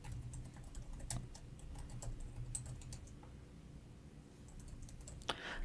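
Sparse, quiet keystrokes on a computer keyboard, a few scattered taps and clicks over a low hum, with a louder click near the end and no speech.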